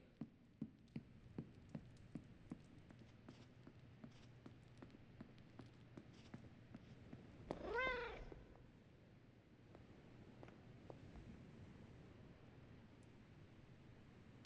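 A single cat meow rises and falls midway through, standing out briefly over a quiet background of faint footsteps and soft clicking.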